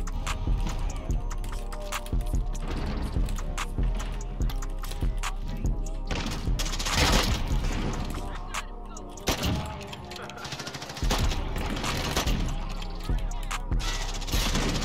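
Shotgun fire in Modern Warfare, repeated loud blasts and clattering gunfire in a busy stretch of gameplay, with a player talking over the action.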